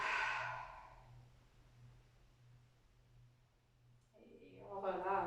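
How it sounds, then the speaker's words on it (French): A deliberate exhale during an abdominal exercise in a strength class: a soft, breathy sigh fading over a second or so, then a quiet pause with steady low hum, before talk begins near the end. "Inspire. Expire."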